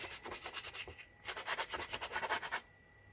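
A soft pastel stick is rubbed back and forth on a handmade sanded pastel surface in quick rhythmic scratchy strokes, two bursts of about a dozen strokes each, close and fairly quiet.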